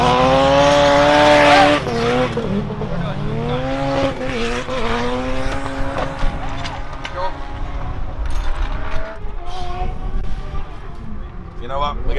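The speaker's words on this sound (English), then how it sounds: "James is warming tyres, you can see him." Drift car at a competition with James Deane at the wheel, warming its tyres: a loud, continuous engine wail with rising and falling revs and tyre squeal, under crowd and track noise.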